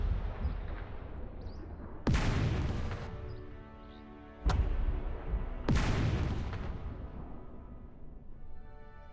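Tank main guns fire armor-piercing rounds in the turn-based WW2 game Second Front: three loud, sharp booms with rumbling decay, spaced a couple of seconds apart over a low background hum.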